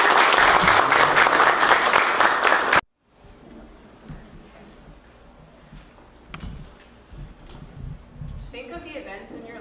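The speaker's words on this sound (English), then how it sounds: "We have one final round of applause for Sara." An audience at a bookstore evening gives author Sara a final round of dense, loud applause for nearly three seconds. It cuts off sharply, followed by quiet room noise, scattered movement and faint talk.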